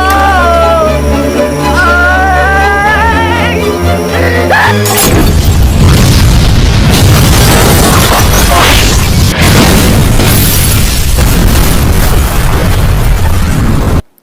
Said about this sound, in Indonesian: Jong-suk tewas oleh sebuah ledakan yang berasal dari tabung gas